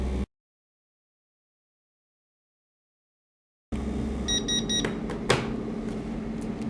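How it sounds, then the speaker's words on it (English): A mini 3D vacuum heat press for sublimation phone covers hums steadily after a stretch of silence, then gives a short series of high electronic beeps near the end of its cycle, followed by a brief clack. "When you hear the beep, the process is over."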